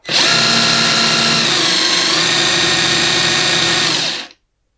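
A Parkside cordless angle impact wrench runs continuously for about four seconds, a loud, close, high-pitched motor whine that holds steady and then cuts off abruptly into silence.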